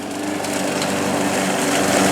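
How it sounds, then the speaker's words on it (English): An old lawnmower engine runs steadily while mowing outdoors, giving a continuous, fairly loud broadband drone with no talk over it. "he fires up the old lawnmower and starts mowing"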